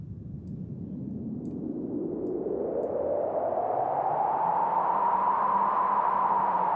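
A resonant synthesized whistle from a resonant filter slowly sweeps upward through a hissing noise bed, imitating a howling wind that rises and sustains, with no talking.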